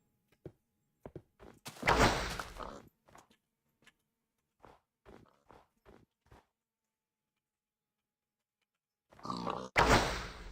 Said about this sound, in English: And actually, there are pigs in this direction